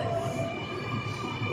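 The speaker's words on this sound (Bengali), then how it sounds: "এই হচ্ছে সিডনি ট্রেন, যেটা আমি আগেও দেখিয়েছি, দোতলা ট্রেন" A Sydney double-decker train hums steadily at a platform with a faint wheel squeal, a short low rumble with no talk.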